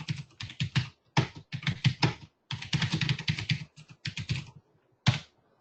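Fingers type a note on a computer keyboard, with quick bursts of close, crisp key clicks separated by short pauses.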